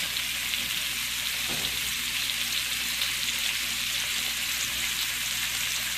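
Tomatoes added to a frying pan for shrimp linguini sizzle steadily and loudly, a dense crackling fry held close with one brief stir or clatter partway through.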